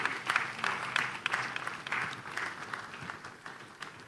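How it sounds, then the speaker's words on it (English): Conference audience clapping for a guest, a crisp scattering of close individual claps over a broader wash of applause that stays fairly even before easing slightly toward the end. "Please, let's give him a round of applause."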